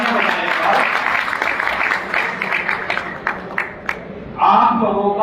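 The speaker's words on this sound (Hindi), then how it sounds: "आप अपने लिए 2 बार तालियां बजाएं।" A crowd at a Karnal conference of contract workers claps steadily before the applause thins to a few scattered claps, and then a voice begins speaking.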